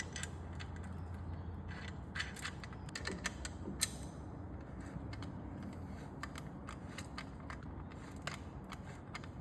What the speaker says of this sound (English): Now we're just going to tighten it all up.